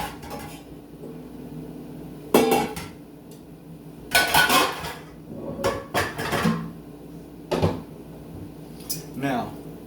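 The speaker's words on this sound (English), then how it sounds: "I think I'm going to use a bigger skillet for this." A bigger skillet is handled and set down in a kitchen, giving several sharp metallic clanks and scrapes spread over a few seconds, with a voice talking between them.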